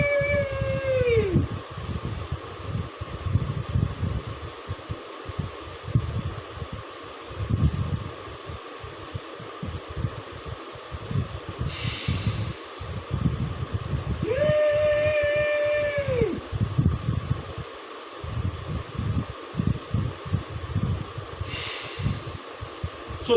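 Ujjayi Pranayama yogic breathing, with slow, audible, throaty rushes of breath in and out, rising and falling in rhythm, close to the mic, alongside occasional faint whistling tones.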